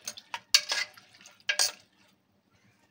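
Raw mango pickle being stirred with spices in a pot: a few short scraping, clinking bursts of a spoon against metal, close by, then a quiet pause.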